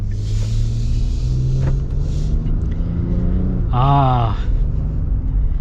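Nissan Frontier PRO-4X pickup, 2025 long bed, with a naturally aspirated V6: a steady low engine rumble from inside the cab, with a brief rising rev near the end.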